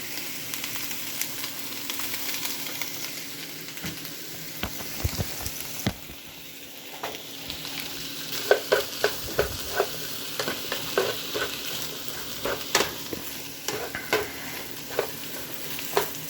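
Onions fry in corn oil for a chicken stir fry, a continuous sizzle broken by repeated clicks and scrapes of stirring with a utensil in the pan, with no speech.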